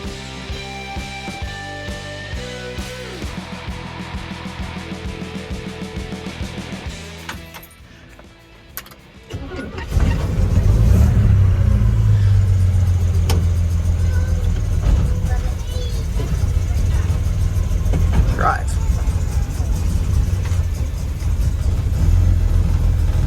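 A 1952 GMC truck engine catching and settling into a steady mid-pitched rumble, then pulling away under load, following tonal music; a person talks intermittently over the engine.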